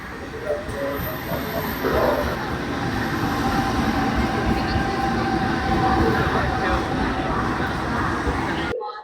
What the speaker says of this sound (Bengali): আর ট্রেনটা 5 নম্বর প্ল্যাটফর্মেই ঢুকছে।